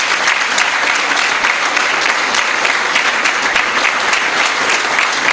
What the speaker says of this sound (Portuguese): pediria uma grande salva de palmas para todos